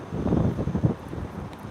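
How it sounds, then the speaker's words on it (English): Strong wind batters a microphone at an airport plane-spotting location, producing low, uneven rumbling gusts that swell in the first second and then ease into a softer, steady buffeting. "I apologize for the terrible audio quality that you're going to have because it's so windy up here."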